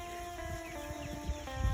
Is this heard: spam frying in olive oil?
no